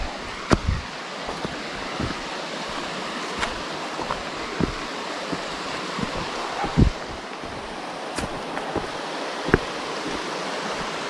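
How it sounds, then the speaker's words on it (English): Fast-flowing stream water rushing through a canyon in Petit Jean State Park, a steady broadband wash with occasional splashes and bumps, fairly close and continuous without talk. "And all this fast water, it pools up."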